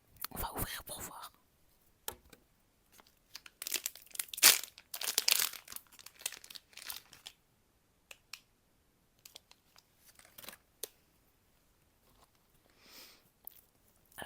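Plastic packaging from a SHEIN parcel crinkles and rustles up close in bursts, loudest early on, then turns into sparse small crackles and taps, with soft whispered speech now and then.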